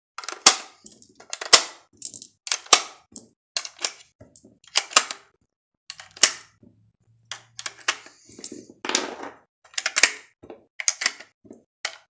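Cartridges clicking and snapping one at a time into a Mission First Tactical polymer rifle magazine, a loud irregular series of sharp metallic clacks with brief pauses between, close up and without talk.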